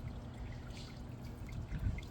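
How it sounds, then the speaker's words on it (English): Aquarium water pours into a guppy breeding tank, a soft, close trickle and splash that runs steadily and swells briefly near the end, with no talk. "we're just going to add a little bit of water from the tank"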